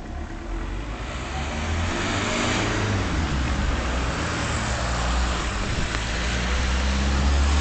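A car accelerates past at close range on a road, its engine noise swelling into a loud, steady roar that grows over several seconds, with a broad rush of road and wind noise.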